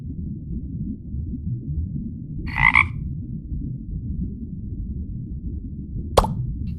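A frog in a pond gives one short croak over a steady low watery hum, followed a few seconds later by a single sharp plop.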